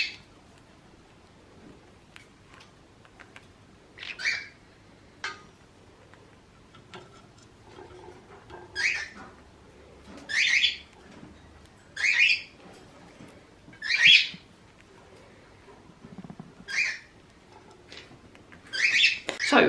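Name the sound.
pet parrots squawking in the background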